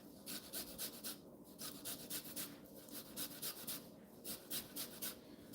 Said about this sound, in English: when I'm zesting, it's zest turn, zest turn, zest turn, zest turn, zest turn, zest